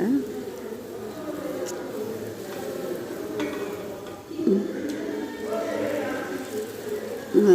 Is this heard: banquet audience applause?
no